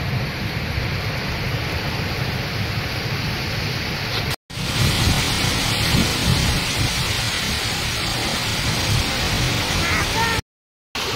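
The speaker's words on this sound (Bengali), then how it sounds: "ঝুম ধারে বৃষ্টি হচ্ছে সেই থেকে" Heavy rain pours down steadily during a storm in a rural yard beside a pond and mango trees, a loud unbroken hiss of falling water with brief dropouts.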